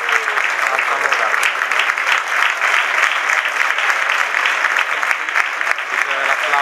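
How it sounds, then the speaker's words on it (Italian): Steady, dense applause from a football crowd in a match between Nardò and Altamura, sustained and loud throughout without pause. "Bisogna l'applauso del pubblico."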